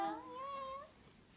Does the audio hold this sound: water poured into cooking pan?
no